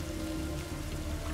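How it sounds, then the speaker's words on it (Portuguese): Steady rain pours in the strategy game Total War: Pharaoh, a dense, continuous hiss of drops hitting the ground that fills the whole moment with no break or voices. "Tá chovendo, hein, cara. Chuva é um negócio chato."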